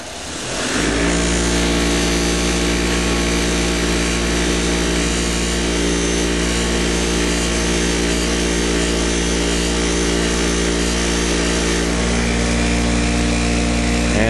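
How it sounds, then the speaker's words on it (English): A Porsche 911 rocker arm is polished on a spinning Scotch-Brite wheel, a loud steady motor whine with a constant abrasive hiss that runs unbroken throughout with no voices. "So we'll do that on the Scotch-Brite wheel."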